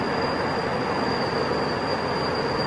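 Big jet airliner on a fast landing approach, a steady broad roar with a sustained high whine, heard continuously and fairly loud with no talking.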